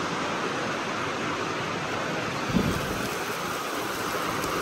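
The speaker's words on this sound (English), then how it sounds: "we got us a little Delaware rainstorm" Heavy rain pours down in a Delaware rainstorm, a dense, unbroken roar of falling water heard from indoors, steady and loud with one brief thump midway.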